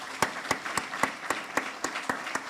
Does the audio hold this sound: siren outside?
no